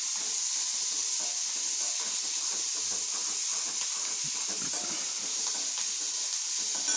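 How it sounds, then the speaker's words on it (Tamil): Onions and tomato sauté in a pan on the stove, giving a continuous soft frying hiss with faint stirring scrapes, close and steady, and no voices. "இதை நல்லா வதக்கணும்."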